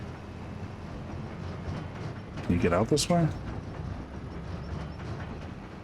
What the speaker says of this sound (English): So the train's coming.